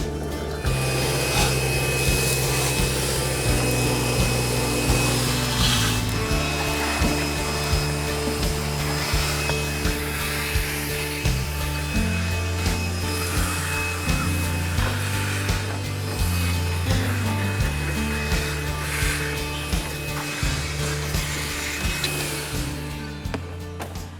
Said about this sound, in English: we got the major just amount of like seeds and a little bit of mess that was in these flaps out, just vacuumed them out